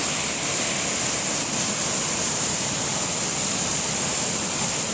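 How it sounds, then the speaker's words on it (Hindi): Floodwater from heavy monsoon rain rushes hard at Pradhanpat in Deogarh, Odisha, a loud, dense, unbroken roar of torrent close by, with no voices. "बहुत जोरे पानी आसुची"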